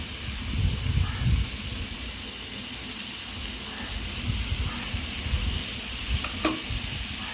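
Onions sizzle and fry in a pan with green chilies and curry leaves for an onion masala, a steady hiss broken by occasional stirring scrapes. No voices are heard.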